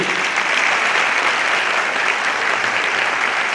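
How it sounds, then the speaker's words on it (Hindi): Crowd clapping at a Bharatiya Janata Party political rally, dense and loud applause sustained evenly throughout with no voices standing out. "आपका तालियां बजाकर स्वागत अभिनंदन आपको करिए"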